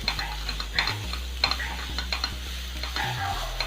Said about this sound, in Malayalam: എന്നിട്ട് നല്ലവണ്ണം ഒന്ന് ഉള്ളി വഴണ്ട് കിട്ടുന്നിടം വരെ ഒന്ന് വഴറ്റിയെടുക്കാം.